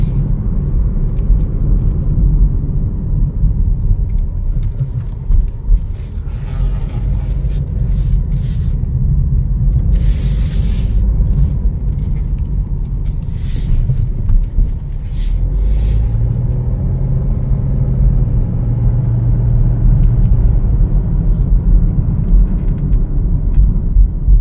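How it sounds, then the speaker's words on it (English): Interior of a 2025 Chevrolet Trailblazer FWD LT with a turbo engine cruising on the road, a steady low rumble of tyres and engine filling the cabin, with brief louder rushes of passing wind or traffic and no talking. "It's got the turbo in it, makes it super smooth. And it is pretty quiet when you're driving it."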